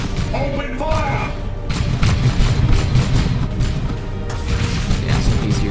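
Gunfire and heavy booms from a Dawn of War 2 battle roll on densely and continuously, with muffled voices mixed into the din.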